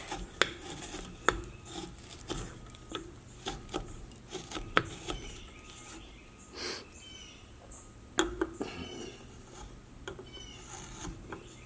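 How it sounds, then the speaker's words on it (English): Knife carving wood on a hand-carved Cowboy Santa figure, cleaning up around the bag: quiet scraping and rasping strokes with intermittent sharp clicks and taps, close and faint, no talking. "carving up there around the bag, getting that kind of cleaned up"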